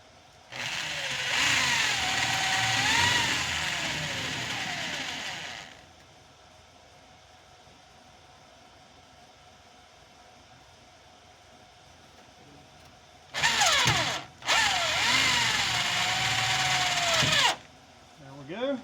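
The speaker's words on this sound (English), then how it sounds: "These are self-drilling screws." A power drill whines loudly for several seconds, falls quiet, then runs again in two bursts, driving self-drilling screws into a sandblast cabinet.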